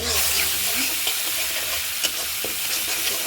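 Spice paste sizzling and frying steadily in a little mustard oil for an egg curry, a continuous close hiss with occasional stirring scrapes.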